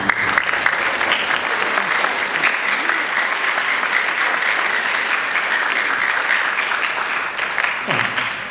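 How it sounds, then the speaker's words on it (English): Loud, steady applause fills a junior high band concert, a dense wash of many hands clapping at once that holds evenly throughout, with a faint voice near the end. "Please look at a round of applause"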